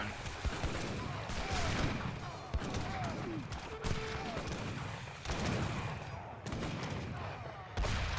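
Battle gunfire in Age of Empires III, with a fixed gun firing among units: dense volleys of shots and thuds crackle continuously, bursting repeatedly at moderate loudness under a player's occasional talk.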